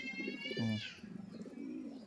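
Pigeons held for sale coo softly, one throaty burble standing out early, then quieter cooing trailing on, faint and without talk.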